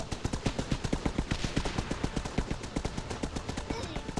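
Rapid bursts of automatic gunfire in the mobile strategy game Guns UP! crackle continuously in a steady rhythm, dense and sharp, with no pause.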